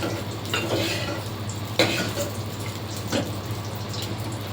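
White rice stirred in ghee in a pot: scraping spoon strokes and clinks against the metal at irregular intervals, close up over a steady soft sizzle.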